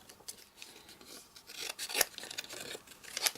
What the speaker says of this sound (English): I'm just going to cut these by hand because there isn't a die for it. Keep your scissors at a 45-degree angle.